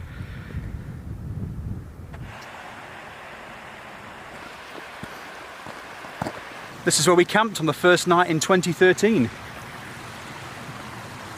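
A river runs beside a campsite on the Pennine Way, a steady broadband rush of flowing water continuing throughout, with someone speaking briefly near the end.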